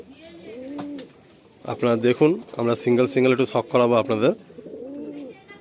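Young tournament flying pigeons offered for sale coo in short rolling bursts at the start and end, while someone talks loudly over most of the middle.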